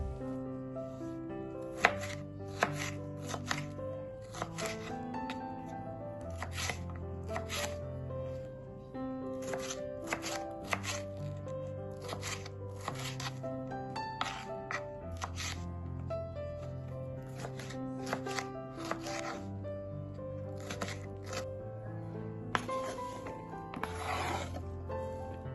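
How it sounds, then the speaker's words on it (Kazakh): A knife chops bell pepper for a lecho salad in a home kitchen, the cuts landing as a quick, steady string of crisp taps on a board under continuous background music. "Енді болгар бұрышында өзіңізге ыңғайлы көлемде осылай турап алатын боламыз"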